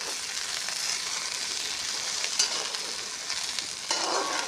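Okra frying in a small amount of oil in a pan gives off a steady, dense crackling sizzle, close and fairly loud, with a brief stir scrape partway and a slight swell near the end.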